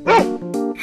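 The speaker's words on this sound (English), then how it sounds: "dog," Cartoon dog barking: two quick, loud, close barks with a bright yelping tone, the first louder and longer, the second shorter, standing alone with no talk.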